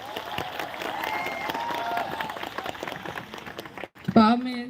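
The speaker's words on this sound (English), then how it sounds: "Kim Jolly, round of applause," Applause from a protest crowd fills most of the stretch, a steady patter of clapping mixed with crowd noise and some voices, then breaks off into a short silence before a louder burst of sound at the end.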